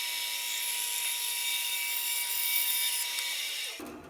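A saw fitted with a resawing blade cuts through a big chunk of wood, a steady, close, high whining hiss that holds evenly and then stops abruptly near the end.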